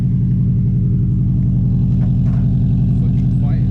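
A Subaru WRX with a straight-piped Agency Power header idles with a loud, steady, deep rumble heard close by, with faint speech over it.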